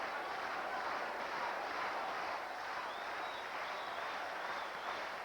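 Curling crowd at the 1986 Brier semifinal in Kitchener applauding for Ontario skip Russ Howard, a steady, faint wash of clapping that holds evenly throughout with no voices on top.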